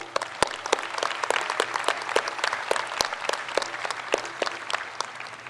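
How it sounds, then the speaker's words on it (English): Applause from a university convocation crowd for staff, student and faculty volunteers, with sharp individual claps standing out near the front over a steady wash of clapping from the wider audience. "Let's give them a big round of applause."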